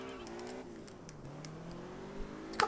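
Engine of a Saturn Sky in the Xbox 360 racing game Test Drive Unlimited rises in pitch as the car accelerates through gears, a quiet steady drone with faint background sounds.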